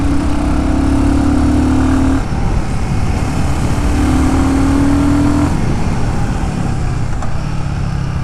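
Royal Enfield Guerrilla 450 motorcycle pulling hard through its gears, a loud, close engine drone rising in pitch, easing off with brief dips at each shift, then climbing again without any talking.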